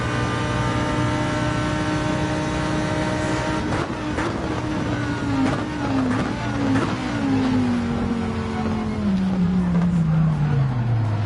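Race cars in the Gran Turismo 7 racing game, including a Lamborghini, roar steadily with engine whine falling in pitch as a car slows, a continuous loud drone with brief tire and contact noises.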